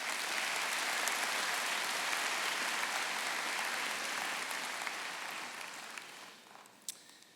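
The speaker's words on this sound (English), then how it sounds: "give yourselves a big round of applause" Sustained audience applause fills a high school graduation ceremony, a dense wash of clapping from a large crowd that holds steady, then gradually thins and fades toward the end with a few last scattered claps.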